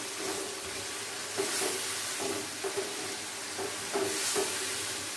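Minced meat keema sizzling in a pan over lowered heat, a steady soft frying hiss with several scraping stirring strokes at irregular intervals, fairly quiet and close.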